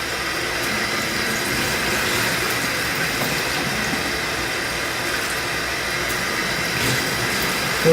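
Steady running water pours into a bucket during fish tank maintenance, a continuous broadband rush with no pauses or talk.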